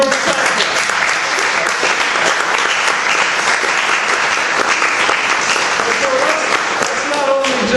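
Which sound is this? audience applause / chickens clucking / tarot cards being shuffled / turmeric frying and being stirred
audience applause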